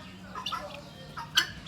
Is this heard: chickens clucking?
yes